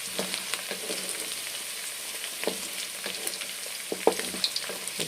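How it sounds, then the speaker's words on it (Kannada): Peanuts sizzle and crackle as they fry in a pan in a home kitchen, with a steady hiss and scattered pops and stirring scrapes throughout. "ಕಡಲೆ ಬೀಜ ಹಾಕಿ ಫ್ರೈ ಮಾಡ್ತಾಯಿದ್ದೀನಿ"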